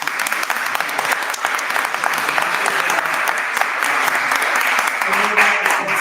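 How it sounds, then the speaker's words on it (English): Steady applause from the audience at a city council meeting for a man honored for his service to the city of Tooele. Continuous and fairly loud, with faint voices mixed in underneath. "we would like to give you a hand of applause for him."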